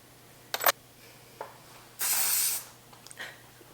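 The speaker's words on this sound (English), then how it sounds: "Put a little bit of spray." Hairspray hisses from an aerosol can onto styled hair in one steady, close burst of about half a second, preceded and followed by faint short rustles and clicks of handling in a quiet room.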